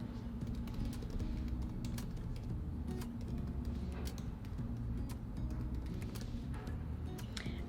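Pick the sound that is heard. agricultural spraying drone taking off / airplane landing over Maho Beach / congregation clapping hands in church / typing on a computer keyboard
typing on a computer keyboard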